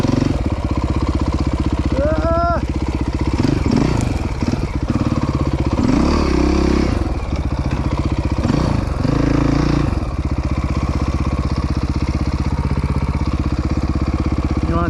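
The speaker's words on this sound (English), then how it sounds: "You plant your inside foot, lean the bike, and then just twist the throttle" Dirt bike engine on a trail at a motorcycle riding area, revving in several sharp throttle bursts over a steady idle, close and loud, with a brief voice.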